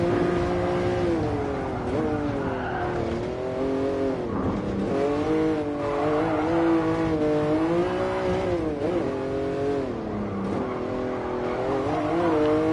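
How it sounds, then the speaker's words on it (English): A Jaguar XJ13 V12 race car in the GT Sport video game roars loudly around the Nürburgring Nordschleife, its engine note rising and falling through gear changes and revs without pause. "And that V12 is very loud."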